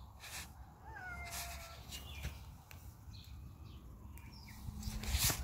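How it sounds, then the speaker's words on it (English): A large, heavyset house cat meows outdoors in a backyard, a couple of short rising calls close by over a steady background hum. "My big fat chunky cat."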